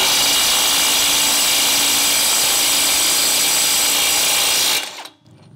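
A Keelat brushless impact wrench set to 300 Nm runs at full power as one loud, unbroken, close mechanical whir that holds steady for nearly five seconds and then cuts off abruptly, with no voices.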